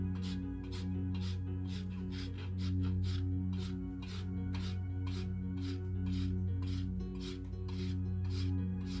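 A rasp filing the bottom of a horse hoof during farm trimming, rhythmic back-and-forth strokes about two per second, close and steady across the whole stretch with no talking.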